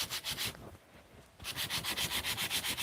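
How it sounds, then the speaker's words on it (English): Hand sanding copper with 600 grit sandpaper, close rhythmic back-and-forth rubbing strokes, a short burst, a brief pause, then a steady run of quick even strokes with no talking. "And these sandpaper, because it is softer, it has more of a grip on the copper, so I gotta hold it a little bit tighter."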